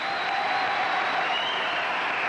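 A studio audience applauds at a 1984 College Bowl broadcast. The clapping is brief, even and continuous, with a faint tone running under it.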